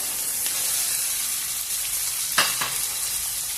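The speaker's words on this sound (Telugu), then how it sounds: "అల్లం వెల్లుల్లి పేస్ట్ కూడా బాగా వేగింది ఇప్పుడు క్యాప్సికమ్ ముక్కలు" Capsicum pieces sizzle and fry in a pan with ginger garlic paste, a steady close hiss running throughout with a brief stir of the pan near the end.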